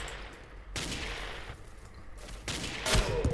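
Gunfire in Ace of Spades, a blocky Minecraft-style shooter: loud broadband bursts of shots in quick succession, with a couple of sharper cracks near the end, and no talking.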